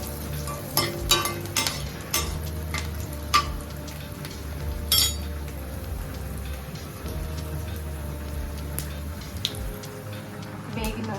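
Green chilies fry in a pan for a pulusu with a continuous crackling sizzle. Sharp pops and spatters burst out now and then, and there is no talk.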